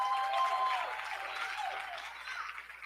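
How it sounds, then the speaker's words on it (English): Applause from an audience at a national business awards ceremony greets a presenter, a steady wash of clapping that stays fairly even and moderately distant for about three seconds, with a few faint tonal notes drifting over it. "Could you please give a great round of applause for Jennifer?"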